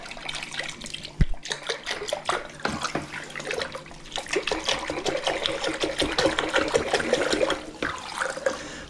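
Water is stirred and swirled in a container while yeast is mixed into a home moonshine mash, giving a steady sloshing, splashing churn with one sharp knock near the start.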